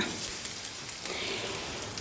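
Curry leaves hit hot oil with a loud, dense sizzle and crackle, close and constant for a couple of seconds with no voices.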